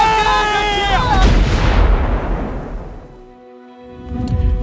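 A large, loud boom of cannon fire bursts out over shouted talk and a tonal note, then a long rumbling tail fades into near silence before noise swells again, amid a staged Hundred Years' War scene.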